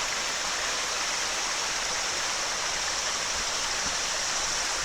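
A small stream runs beside a nature trail, making a constant, close rush of flowing water with no pauses and no talking.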